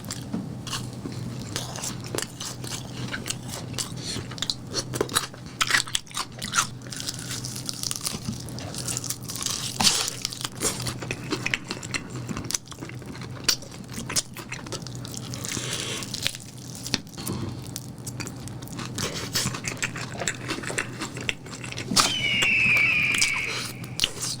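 Close, soft crunching and biting while eating Kyochon Bangkok jumbo chicken wings, irregular small crunches and chewing sounds spread throughout at low volume, with no talking.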